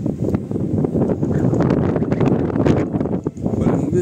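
Steady wind roars and buffets the microphone in the Harz mountains of Germany, a loud, continuous rushing noise.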